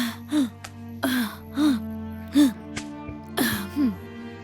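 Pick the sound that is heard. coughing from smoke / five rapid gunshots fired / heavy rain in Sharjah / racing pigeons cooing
coughing from smoke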